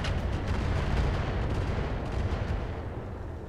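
Continuous rumbling artillery fire from the video game Roguetech, heavy and booming with crackling bursts, loud and unbroken throughout with no talking.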